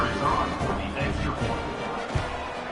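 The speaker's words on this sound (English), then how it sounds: "Bangs it through for an extra point." Extra-point kick in the NCAA 26 football video game: one short, solid thud late in the clip, set against a steady, loud stadium crowd roar.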